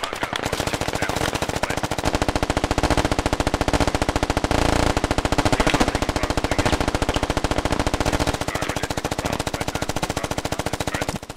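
Rapid, sustained automatic gunfire from a SquadOps video game firefight, dense bursts hammering continuously and loudly with barely any pause.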